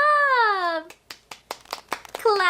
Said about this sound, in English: This is clapping.